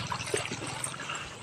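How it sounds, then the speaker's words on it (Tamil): Water of a stream at the Courtallam waterfall, flowing and splashing steadily at close range, a bright continuous rush with no talk over it. "பாருங்க, இப்படியெல்லாம் தண்ணி போகும்"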